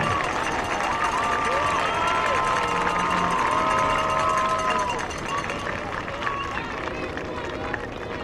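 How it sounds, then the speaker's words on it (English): A large crowd at a high school football game cheers and applauds in the stands, a broad roar with scattered whoops and a band-like tone drifting over it, easing a little toward the end. "Let's give a round of applause to all of our seniors."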